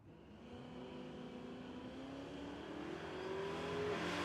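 Drag cars, a Dodge Swinger and a Dodge Dart, launch down the strip at Tulsa Raceway Park, a distant engine roar that builds steadily in pitch and loudness as they accelerate away, faint and without talk.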